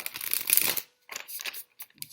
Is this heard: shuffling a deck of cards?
yes